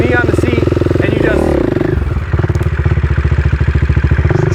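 A quad ATV engine roars loud and close during a wheelie, with a rough, pulsing note that dips briefly and then revs back up hard.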